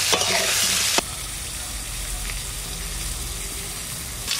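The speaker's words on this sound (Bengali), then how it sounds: "এবার আলুটা একটু ভাজে নেব" Potatoes with a light sprinkling of salt fry in a pan. A loud burst of sizzling and stirring gives way to a steady, close, even hiss that carries on alone, with no voices.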